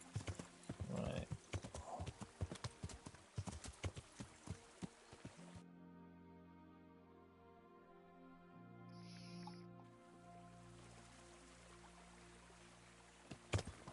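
Horse hooves clip-clop steadily while riding in the medieval game Kingdom Come: Deliverance, loud and close for several seconds before stopping and giving way to quieter ambient tones.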